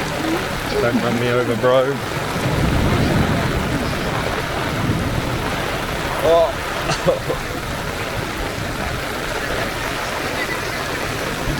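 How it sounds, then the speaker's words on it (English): Heavy rainstorm pouring onto a street in China, a dense steady wash of rain and splashing water filling the whole clip, with someone speaking briefly near the start and again around the middle. "I've been waiting for the rain for so long"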